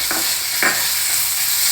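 Carrot and dry red chilli paste ground with tomato ketchup being lightly stir fried in a pan for poha, a steady close sizzle with two brief scraping stirs near the start, no voices.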